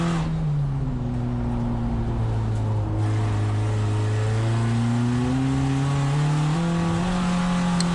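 A VW Jetta GLI Super Touring Car on a race track brakes hard, its engine note loud and close and droning low as it winds down and then climbs again steadily, with no voices.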